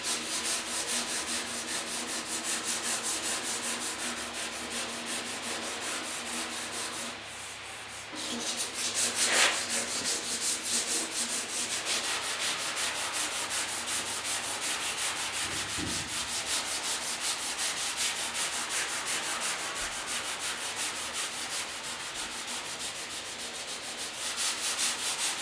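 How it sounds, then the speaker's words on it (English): Hand sanding with 220-grit paper on the painted hood of a 1967 Chevy, a steady, close rasping rub that continues almost unbroken, with a brief pause near the eighth second. "a little bit of sand with some 220"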